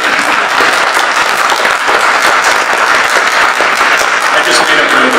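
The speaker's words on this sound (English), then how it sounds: "You could clap for that." Audience applause at a 2014 political debate, a loud, steady wash of many hands clapping that fills the whole stretch without a break, with voices mixed into the crowd noise.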